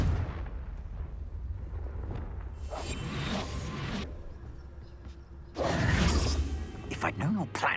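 A Confringo blasting spell erupts in Hogwarts Legacy, with two loud whooshing blasts landing over rumbling combat noise and what sounds like a voice.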